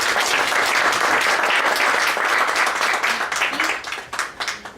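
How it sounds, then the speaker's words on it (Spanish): Audience applause welcoming a speaker to a feminist debate forum, a dense, loud and steady clapping that thins out and fades toward the end with no talk over it. "Pido un aplauso para recibir"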